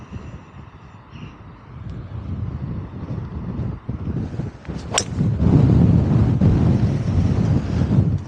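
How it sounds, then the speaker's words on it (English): Wind buffets the microphone on an exposed links golf course, a rough, gusty low rumble that rises and grows louder in the second half, with a brief sharp sound in the middle. "even though we're turning back into the wind"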